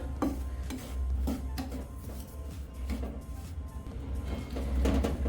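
Atta flour being roasted for sund with jaggery, a spoon scraping and stirring it around a pan in steady repeated strokes with soft clinks and rubbing, close and moderately quiet.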